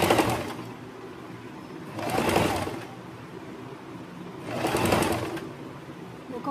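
A tailoring sewing machine fitted with a pico foot runs in two separate bursts of rapid stitching, a steady mechanical whir rising and falling over a constant low background hum.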